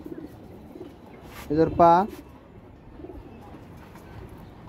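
Pigeons in a loft coo once, a short rounded burst standing out above low background noise, with someone talking before and after.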